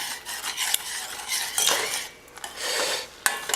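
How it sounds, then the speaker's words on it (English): A spoon stirs an egg into steel cut oats in a pot, making a run of close, soft scraping and clinking strokes with no talk. "I'm actually going to mix this egg up and cook it in with the oats."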